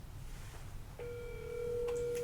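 A telephone rings in a quiet indoor room, a steady electronic ring tone starting about a second in and holding, fairly clear above low background hum, with no talking.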